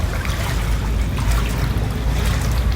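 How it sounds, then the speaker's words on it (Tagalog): Someone wading through knee-deep floodwater around a house, a steady loud churning slosh of water close by throughout, with no talking. "Pero susulong tayo sa baha."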